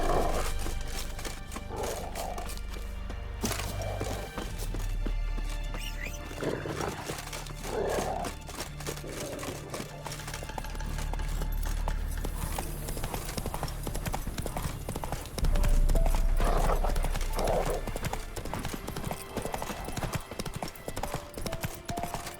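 A horse gallops in The Witcher 3, its hooves pounding in a fast, continuous rhythm, loud and close, with occasional snorts and brief speech in the game.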